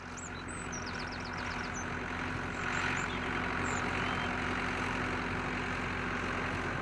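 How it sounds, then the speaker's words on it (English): A tractor engine idles with a steady low, throbbing hum in the countryside, moderately distant, while birds chirp and call intermittently above it. "Oh, look! A tractor!"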